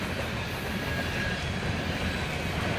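A loaded coal train rumbles past up close in a dense, unbroken roar of rolling wheels and rattling cars, loud and steady throughout.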